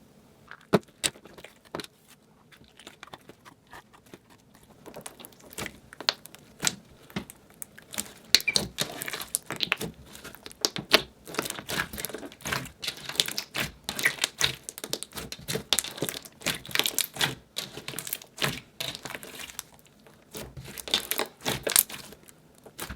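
Slime is mixed with beads by hand, producing dense, irregular crunching and clicking as the beads crackle and squish, starting sparse and growing busier and louder throughout, with no talking.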